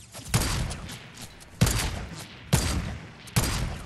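Four sharp gunshots ring out in a first-person shooter match, spaced irregularly about a second apart, each a loud close crack with a short decaying tail and no talk over them.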